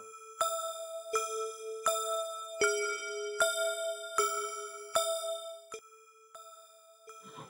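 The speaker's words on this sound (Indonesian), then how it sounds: "terdengar suara gong dipukul berkali-kali" A gong is struck about eight times at a steady, unhurried pace in a forest on Mount Merapi. Each clear metallic hit rings with sustained tones that fade before the next, and it sounds alone with no talk.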